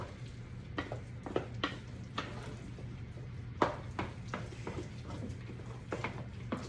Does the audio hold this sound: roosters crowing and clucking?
no